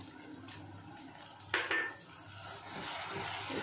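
A spoon stirs ginger, garlic and cumin paste with onions in hot oil in a pan while fish curry is being cooked. Brief scraping and clinking sounds a few times over a soft background sizzle.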